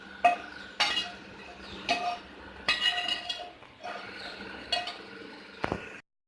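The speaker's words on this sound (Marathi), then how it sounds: "सर्वाला मी व्यवस्थित मिक्स करून घेते" A spoon stirs a sesame and peanut powder mixture in a mixing bowl, clinking sharply against the bowl in a loose rhythm of about nine distinct knocks, close and clear.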